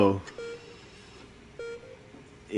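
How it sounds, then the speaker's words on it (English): Two short electronic beeps from a heart monitor in the video game Not For Broadcast, spaced about a second apart with a faint electronic hum between them, clean and alone. "A rhythmic beeping on the heart monitor brings you slowly back to consciousness."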